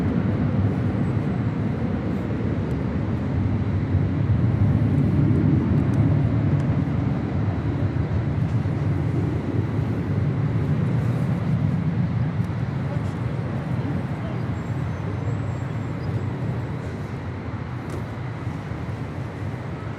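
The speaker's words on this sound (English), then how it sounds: "This is Air Canada 774 departing to Montreal on an" An Air Canada Airbus A330-300 departing LAX makes a loud, broad jet roar that swells and then slowly fades as it moves away. A voice talks over the engines.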